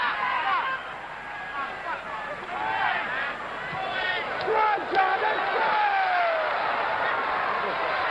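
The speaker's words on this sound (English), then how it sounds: "the crowd enjoying this now" Stadium crowd at a 1976 NASL All-Stars versus England football match, a loud, continuous roar of cheering and shouting that swells in places, with excited calls rising over the mass of voices throughout.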